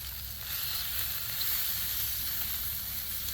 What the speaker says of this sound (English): Listen to that sizzling, boy